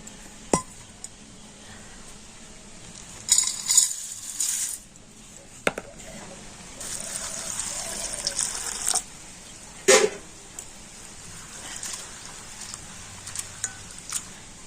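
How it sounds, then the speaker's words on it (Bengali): Thin flattened rice (chira) is washed with water in a bowl: two stretches of splashing and pouring broken by sharp clinks and knocks of the container, close by, with no talking. "প্রথমে আমি চিড়েটা ভালো করে জল দিয়ে ধুয়ে নেবো"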